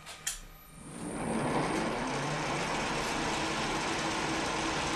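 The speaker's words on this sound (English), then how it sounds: "Now I am touching the workpiece with the end mill." A milling machine without a spindle lock, running in low gear, with an end mill touching the workpiece: a steady, fairly loud broadband mechanical whir that swells over the first second and then holds evenly, with no voices.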